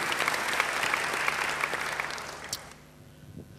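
A congregation applauds during a church sermon, a dense burst of clapping that holds steady for a few seconds and then dies away quickly, leaving a quiet room near the end.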